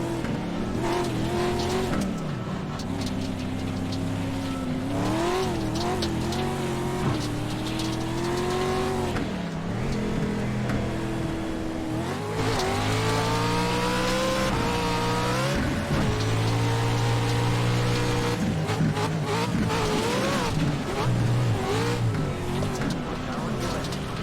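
Race cars in a 10-lap racing video game, engines revving and shifting through gears with rising and falling pitch, tire squeals and skids, continuous and loud with a person talking over it at times.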